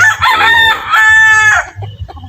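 A young rooster (stag) crows once, close and loud, in a short, slightly rough call that breaks off after about a second and a half, followed by quiet farmyard background.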